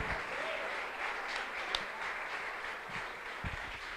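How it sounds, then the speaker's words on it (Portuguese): Steady, moderate applause from a church congregation during a Portuguese-language sermon, filling the clip evenly with a few louder claps standing out. "Pode aplaudir bem bonito, essa é a graça."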